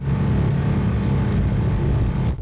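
A ten-year-old performance car's engine rumbles rough and loud, a steady low growl held close and continuous before dropping off at the end, with no talking.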